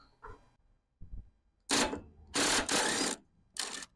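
Ring spanner working a bolt loose on a Foden truck with a Cummins engine, a few sharp metallic clicks and ratcheting scrapes in short bursts, close up, after faint low knocks, with no voices.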